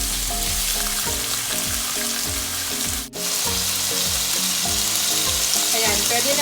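Beef for sukiyaki frying in a pan, a loud, dense, continuous sizzle up close with a brief dip partway through.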